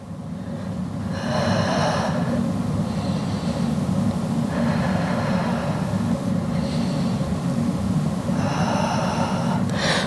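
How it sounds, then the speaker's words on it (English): Slow, deep breaths during a small-ball pilates flow, three loud, close cycles of airy inhaling and exhaling over a steady low background hum. "Three more deep breaths."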